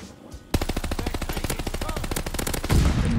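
M1928 submachine gun firing in the World War II shooter Call of Duty Vanguard: after a brief quiet lead-in, a sustained loud, rapid stream of evenly spaced shots runs for over two seconds, followed by louder ambient noise.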